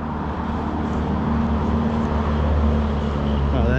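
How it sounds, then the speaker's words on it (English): Small pickup truck driving past a campground day-use picnic area, a loud steady road rumble close by, with a brief voice at the end. "That was just a little pickup truck."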